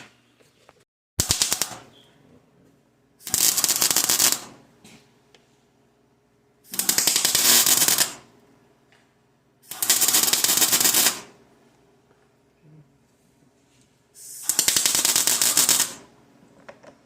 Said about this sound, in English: now we're just going to tack weld it a little bit here